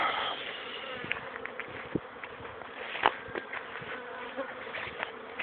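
Flies and bees buzzing around a white beehive outdoors, a dense, steady insect drone with occasional closer passes flaring up briefly, no talk.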